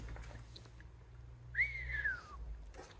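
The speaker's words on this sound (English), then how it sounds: "Oh, I can't even whistle anymore," A person attempts a whistle at night during work fitting a race engine to a Mazda MX5, producing one short rising-then-falling tone that fades out, heard alone over a steady low engine-like hum.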